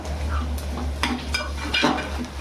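Onions and turmeric are stirred in a cooking pan, giving a run of close scraping and clinking strokes over a steady low hum, with no talking.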